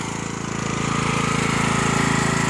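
A Craftsman LT1000 riding lawn mower runs steadily with a loud, continuous engine drone and rhythmic pulsing throughout, no voices present.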